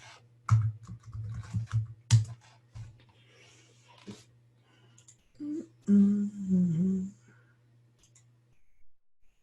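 Computer keyboard keys click in short, scattered bursts of typing over a steady low electrical hum, with a few louder clacks and a brief muffled rustle partway through.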